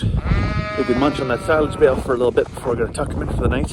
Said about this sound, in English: you can hear the sheep outside here